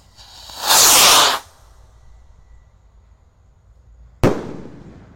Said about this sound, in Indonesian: Rocket Pluto Jumbo. Let's go.